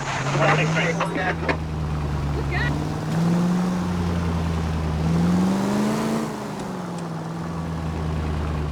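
Steady car engine drone from illegal street racing in L.A. Noire, a sustained low hum that rises and falls in pitch as the vehicle accelerates, heard under a radio voice talking.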